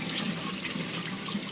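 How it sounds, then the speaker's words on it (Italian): Olives being rinsed under a running kitchen tap, a steady, close rush of water splashing into a sink with no talk over it. "correre un attimo sotto l'acqua che si lavano bene"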